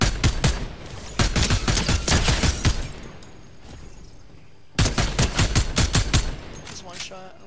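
Rapid bursts of gunfire crackle in the video game Fortnite: two close volleys of quick shots, a quieter gap, then another sharp string of shots with a few single cracks after.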